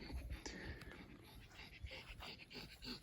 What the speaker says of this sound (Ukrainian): Лежить собака, хекає